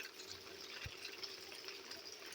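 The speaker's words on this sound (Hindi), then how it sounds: "ये दे छत के पानी नीचे गिरा थे संगवारी हो" Rainwater pours from a roof in a village farm setting, a faint, steady splashing trickle with a single low thump partway through.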